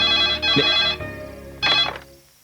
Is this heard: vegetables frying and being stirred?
no